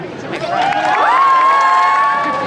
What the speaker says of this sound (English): These people will clap for you.